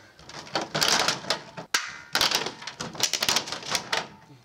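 Old vinyl siding is ripped off a porch wall during a porch-to-sunroom build, giving repeated loud cracking, snapping bursts in quick irregular clusters, close up with no talk.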